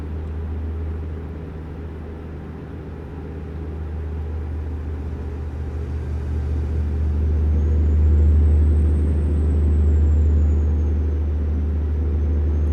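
A heavy truck in American Truck Simulator grinds along the highway with a loud, steady low engine drone that swells slightly midway, a thin whine riding above it and no talk.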